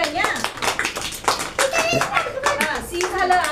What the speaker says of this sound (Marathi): आणि लावलं की टाळ्या वाजवायच्या सगळ्यांनी